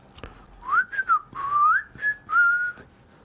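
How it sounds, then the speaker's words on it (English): A person whistles a short wavering tune of a few rising and falling phrases, close and fairly loud, with brief gaps between notes and no talking. "I don't whistle, but I can whistle better than that."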